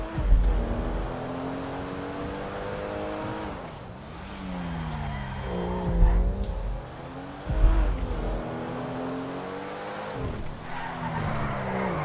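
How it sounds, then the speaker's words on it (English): A car in GTA V driving hard through a chase, its engine revving and rising in repeated sweeps while tires squeal and skid through the turns, loud and close. "Wow, this car slides like shit."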